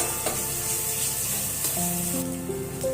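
Chicken with chicken masala, coriander powder and Kashmiri red chilli powder sizzles steadily in a pan for dahi chicken. Occasional stirring strokes sound over the continuous close fry, no talking.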